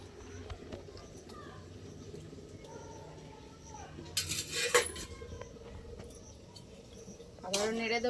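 Ghetkol curry with jackfruit being stirred in a pan, with sporadic metallic scrapes and clinks of a spoon against the pan, a quiet background and someone talking in parts.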